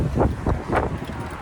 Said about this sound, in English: I will say it's super windy out